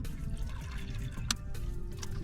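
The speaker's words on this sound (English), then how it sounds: "I think I don't have enough water, so add some more." Water pours into a cooking pot on a stove inside a camper van, a steady trickling fill with a brief louder splash partway through, close and moderately quiet with no talk.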